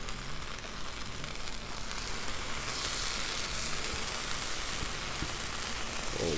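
Tomato slices and jalapeno fry on an oiled Blackstone griddle, giving a steady, moderately loud crackling sizzle that runs throughout with no voices.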